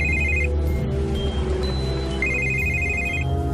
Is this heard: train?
no